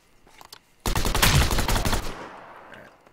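A burst-fire weapon in a free-to-play battle royale game, Last Man Standing, lets off a dense, loud run of rapid shots lasting about a second, then trails away into fading echo. Nobody talks.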